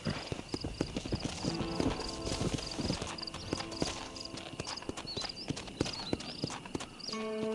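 Horse hooves clip-clop at a steady walking pace in the video game Red Dead Redemption, moderately close, with a whinny and background game sounds layered over the hoofbeats.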